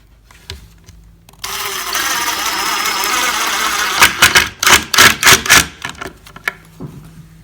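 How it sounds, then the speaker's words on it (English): A power driver turns pocket screws into a glued wooden joint, first a sustained close whir for a few seconds, then a rapid series of short, loud pulsing bursts as the screws seat. "And we turn our pocket screws up."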